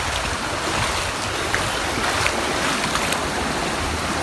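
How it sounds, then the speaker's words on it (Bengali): Strong floodwater races through a flooded area of Sylhet, a constant loud rushing and churning roar with wind-like noise and no voices. "এখানে অতিরিক্ত স্রোত পানির।"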